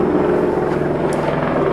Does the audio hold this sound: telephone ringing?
no